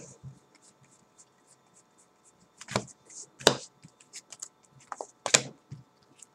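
Sparse crisp riffling and snapping of playing cards being shuffled, a few louder bursts amid quiet pauses, close by with no talking.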